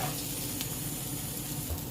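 Steady, close sizzling and crackling of a burger frying in a very hot pan, continuous with a few small pops and no voices.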